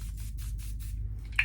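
Plain water spritzed from a spray bottle onto a skincare face mask: about six soft, evenly spaced hissing bursts, close and fairly quiet over a low steady hum.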